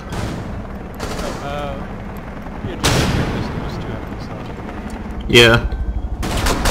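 Gunfire in the video game Rainbow Six Siege comes as several loud bursts of automatic shots spread through the stretch, with a short voice speaking between them.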